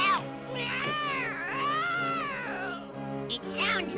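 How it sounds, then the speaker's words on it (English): A cartoon cat yowls and meows like an injured animal, with long wavering cries that rise and fall, followed by a couple of shorter, sharper meows near the end, loud and close with no talk over it. "It sounds like an injured cat."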